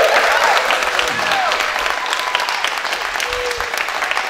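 A Christmas gathering's audience gives a round of applause, loud and continuous clapping that fills the room and slowly tapers, with some voices mixed in.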